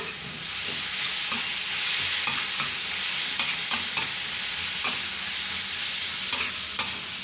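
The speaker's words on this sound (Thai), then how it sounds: "ผัดจนปลาหมึกของเราสุกนะคะ" Squid and beans stir-fried in a hot pan give a steady, loud sizzle throughout, with repeated clicks and scrapes from a utensil moving the food around.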